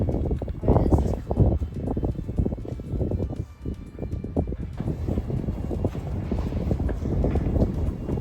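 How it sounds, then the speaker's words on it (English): Strong wind gusting through a narrow rocky canyon corridor in the Guadalupe Mountains, a loud, continuous low roar and buffeting against the microphone that rises and falls throughout. "You guys feel that wind?"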